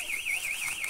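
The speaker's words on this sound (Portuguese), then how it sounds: "Olha só, ligaram até o alarme aqui." A car alarm wails at night, a fast warbling electronic siren that rises and falls in a regular cycle, faint and distant, heard alone for about a second.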